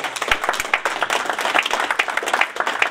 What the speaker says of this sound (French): Nous allons applaudir pour eux